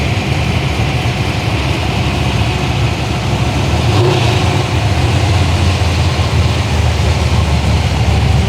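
Show cars rolling into a car show event in Melbourne, a continuous, fairly loud low engine rumble of idling and slow-moving vehicles with no clear pauses, no voices.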